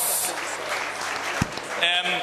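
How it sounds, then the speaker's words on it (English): Audience applause at an evening cocktail mixer, a burst of clapping from a crowd heard close, with voices talking over it and a brief thump near the middle. "please give him a round of applause."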